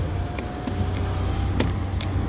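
A 2017 Ford Expedition EL Platinum with 155k miles idles after a remote start, a steady low engine hum with a few light clicks and taps over it, no talking.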